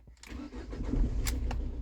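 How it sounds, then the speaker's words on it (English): A parked car in neutral with the parking brake up is started from inside, giving a brief crank and then a low, steady, fairly quiet engine idle. "And then start the car."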